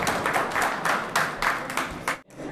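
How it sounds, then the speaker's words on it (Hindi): Audience applause at a mushaira, an Urdu poetry gathering, steady and loud clapping from many hands for about two seconds before it breaks off abruptly, then resumes briefly. "पहले की तरह फिर दोबारा आपकी तालियां मुसलसल गूंजेंगी"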